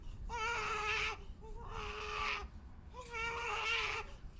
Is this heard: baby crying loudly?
yes